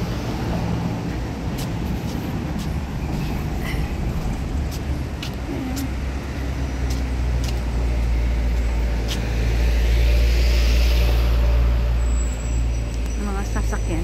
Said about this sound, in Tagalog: Mga sasakyan yan.